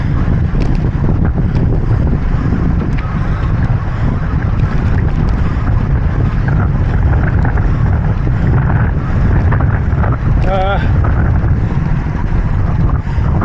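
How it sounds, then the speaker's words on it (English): Steady wind roars and buffets the microphone outdoors beside a large, motionless windmill, a loud continuous rush with no pauses or talking. "I thought it was windy."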